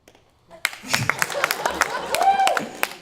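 An audience at a fraternity comedy show at a theater starts clapping, with scattered claps swelling into brief applause.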